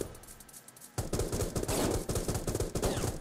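Gunfire in the Rules of Survival shooter game, a sudden burst starting after a quiet second, rapid repeated shots in a dense, loud volley that continues to the end.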